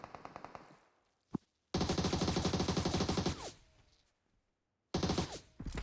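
Rapid automatic gunfire from a PUBG Mobile battle, loud bursts of machine-gun fire in long sustained strings separated by short silent gaps, with a single sharp shot in between.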